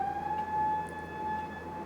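An ambulance siren passes on the main street outside a capoeira academy. It sounds as a faint, steady wailing tone in the distance over low room background.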